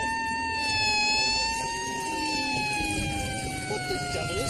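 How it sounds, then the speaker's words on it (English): A siren wails steadily, its pitch slowly falling, over a rumbling engine and road noise. "We always run the siren."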